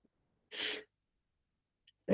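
A single sharp human sneeze, fairly close and moderately loud, bursts out alone in a quiet room during a programming lesson, followed by silence and then the start of another sound at the end.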